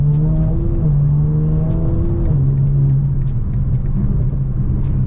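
A tuned BMW 340i xDrive with a big single turbo drones with a deep, steady engine note that steps down in pitch as it shifts through gears, heard loud and close from inside the car.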